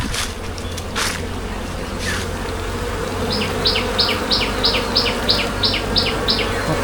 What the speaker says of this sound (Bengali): এগুলোতে প্রচুর মৌমাছি আছে,